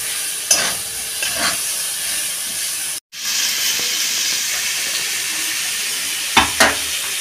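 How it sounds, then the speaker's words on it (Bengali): Chili powder frying in a pan for chicken pulao gives a steady, close sizzling hiss, broken by a few short scraping stirs and a brief cut near the middle. "লঙ্কার গুঁড়ো, হালকা করে আমি ভেজে নেব।"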